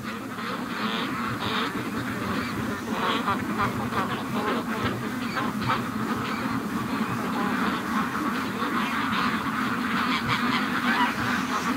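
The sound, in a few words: Brant geese honking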